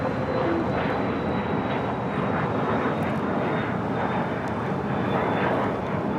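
Jet airliner departing LAX on runway 25 right, a loud, steady engine roar with broad rushing noise and a thin high whine holding throughout.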